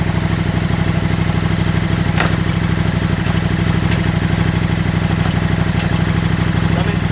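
A KTM RC8R sport motorcycle idles steadily just after starting, a loud, close, continuous mechanical drone with even firing pulses and a faint clatter, holding constant throughout.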